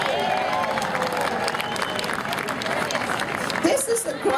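A crowd at a Tea Party rally in St. Louis cheers and applauds, a broad sustained roar of clapping and voices with a louder swell near the end, under a voice speaking.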